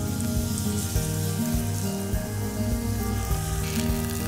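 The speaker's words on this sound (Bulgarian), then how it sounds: "След като зехтинът вече се е загрял, слагаме вътре пресния лук." Fresh onions hiss and sizzle steadily in heated olive oil, a soft continuous crackle running under tonal background music for a few seconds.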